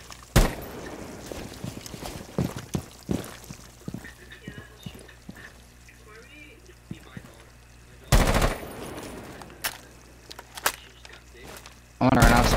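Pre-firing in a video game gives rapid bursts of gunfire, with a few loud volleys spaced apart and lighter clicks and footsteps between them.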